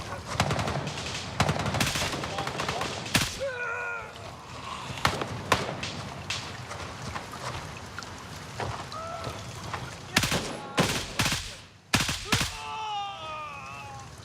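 Gunfire in the military shooter Gray Zone Warfare, rapid bursts of automatic fire and sharp single shots, loud and close, scattered across the whole stretch with brief lulls between volleys.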